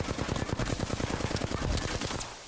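Rapid automatic gunfire from the battle royale shooter Apex Legends, loud and sustained for over two seconds in dense repeating bursts, with sharp overlapping shots and no talking.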